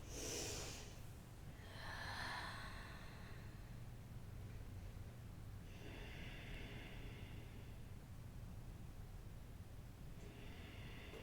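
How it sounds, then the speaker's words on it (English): Slow Ujjayi breathing during yoga, with soft hissing breaths at spaced intervals over quiet background noise, close and faint. "Come back to that Ujjayi breath."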